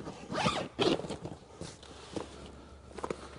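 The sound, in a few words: zipping closed a Final Approach X-Land'R hunting blind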